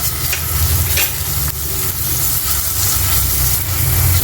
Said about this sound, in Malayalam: പച്ചമുളക് ഒന്ന് മൂത്ത് വന്നതിന് ശേഷം നമുക്കതിലേക്ക് ഇഞ്ചി വെളുത്തുള്ളി പേസ്റ്റ് ഇട്ട് കൊടുക്കട്ടോ